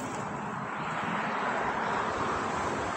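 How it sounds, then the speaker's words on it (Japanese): A steady, broad rumble of a car engine exiting an expressway interchange at night near Eniwa, Hokkaido, continuous and fairly loud throughout, with a wind-like roar and no voices. "インター降りる車。"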